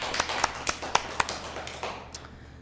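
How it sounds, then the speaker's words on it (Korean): Scattered, light clapping from a church congregation during a Sunday worship service, a sparse handful of individual claps spaced irregularly rather than full applause, fairly faint with no voices. "하나님께 영광의 박수를 올려드리겠습니다"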